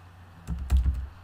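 A computer keyboard gives a quick burst of a few close, crisp key clicks on a quiet desk, with no talk.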